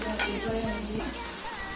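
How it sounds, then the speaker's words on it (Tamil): Onions fry in a pan with a bright, continuous sizzle, broken by a few scraping stirs of a utensil, heard up close with no talking. "ஆனியன் போட்டு ஃப்ரை பண்ணிக்கோங்க."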